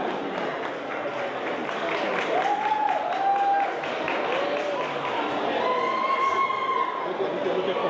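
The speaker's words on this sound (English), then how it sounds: "Let's clap for her." An awards ceremony audience claps steadily throughout, a dense wash of hand claps with chatter and some voices mixed in.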